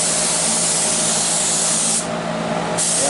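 PVA mould release sprayed onto a gel coat mould, a continuous loud airy hiss from the spray gun that thins briefly partway through before returning at full strength.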